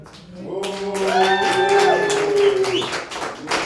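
Audience at a comedy show clapping and cheering, a dense burst of applause rising quickly and holding for a few seconds with crowd voices mixed in.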